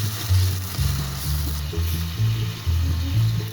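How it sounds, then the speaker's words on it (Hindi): A ground paste of onion, tomato and green chili is added to garlic frying golden in a pan. It brings a steady sizzle, with soft stirring bumps in a low, rhythmic pattern and no voices. "अब इसमें ये जो मैंने पीसा था प्याज, टमाटर और हरी मिर्चें, इसको भी डाल दूँगी"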